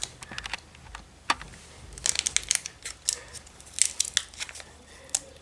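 A Pokémon card pack wrapper is torn open by hand, giving sharp crinkles and tearing bursts that come in irregular clusters, close and moderately loud, with brief pauses between them and no speech.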